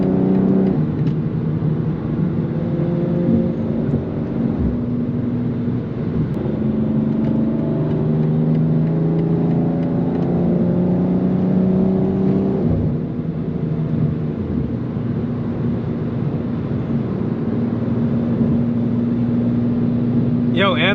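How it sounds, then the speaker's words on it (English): A BMW G87 M2 sports car drones steadily on a gravel back road, its engine note rising and falling through revs. The recording is continuous and fairly loud, with road and cabin noise underneath. "Ant's car sounds so good"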